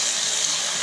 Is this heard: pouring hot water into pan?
yes